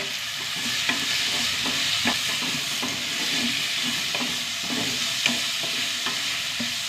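Onions, green chillies and tomatoes sizzle in a hot pan, a steady close hiss of frying broken by regular scraping taps of a spoon stirring the mixture.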